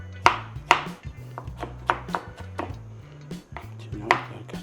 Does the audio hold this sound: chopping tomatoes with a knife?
yes